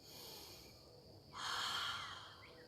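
Breathing held through a yoga pose, a soft quiet exhale followed by a louder, sharper breath through the nose, close and faint.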